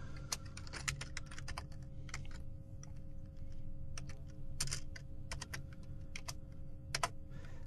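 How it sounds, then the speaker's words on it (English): Close, quiet typing on a computer keyboard in irregular bursts of keystrokes with short pauses, heard alone during Ruby on Rails coding. "this is going to be a bit of typing"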